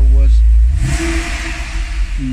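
A 2009 Porsche 911 Carrera Cabriolet engine revs up loudly at close range, a deep rumble rising and settling into a steady mid-range drone, with a short bit of speech at the start.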